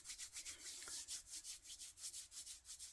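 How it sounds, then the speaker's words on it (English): Hands rubbing briskly together in a quiet room, a fast, steady back-and-forth of dry palm friction repeating roughly every quarter second, close up and alone. "I rub my hands together and it creates warmth in my palm chakras"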